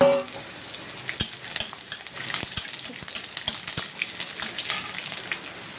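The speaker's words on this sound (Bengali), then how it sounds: "তেলেতে শুকনো লঙ্কা আর কালো জিরে দিলাম তারপরে রসুন দিয়ে দিচ্ছি" Garlic frying in hot oil with dried red chillies and nigella seeds, a soft continuous sizzle broken by frequent sharp pops and spatters, plus light stirring against the pan, with no voices.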